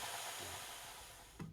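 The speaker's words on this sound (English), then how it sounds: "I use the saw blade to grind the rough edges down to the line." A wet saw blade grinds the rough edges of bathroom floor tile, a steady broadband whir that holds nearly constant, with a short knock just before the end.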